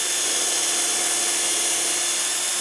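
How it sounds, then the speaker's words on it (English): A power drill bores a hole through a Parf guide system, giving a steady, close, high whirring grind that runs unbroken from start to finish. "And I now introduce my drill, and I can drill my first hole."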